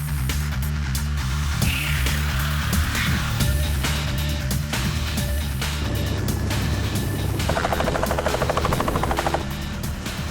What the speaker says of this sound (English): Landing this aircraft in 6 feet of fresh powder is treacherous